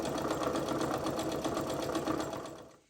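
A sewing machine runs steadily, stitching a seam on a T-shirt dress, with a fast, even mechanical rattle that holds for nearly three seconds before winding down and stopping at the end.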